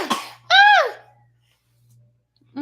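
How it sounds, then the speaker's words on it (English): A child coughs twice, a loud harsh cough near the start, then a single strong cough, with one more starting at the very end, close by in a quiet room. "He coughed, y'all."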